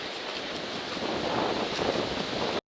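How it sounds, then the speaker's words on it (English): Strong wind roars steadily through forest trees on a mountain hiking trail, a loud continuous rush with gusty swells, then cuts off abruptly at the end. "it's gotten really windy."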